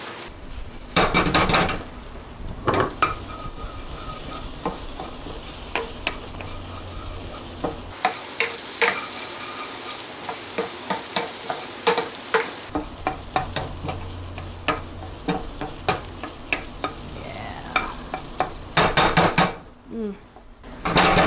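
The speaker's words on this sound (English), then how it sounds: "So I'm just going to add 1 clove of garlic. Let that melt in there for a minute or 2." Crushed garlic and onions sizzle in a pan, with repeated clacks of a wooden spoon against cookware as they are stirred, and the frying grows louder midway through.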